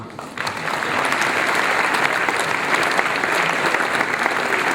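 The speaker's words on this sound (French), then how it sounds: "On peut aussi les applaudir" Audience at a 2016 New Year's greetings ceremony bursts into sustained, dense applause that starts at once and holds steady and loud to the end.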